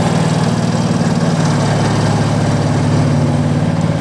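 An S55 engine idles steadily with the car raised on a four-post lift in a home garage, a close, even low-pitched rumble with a faint mechanical whir, no talking.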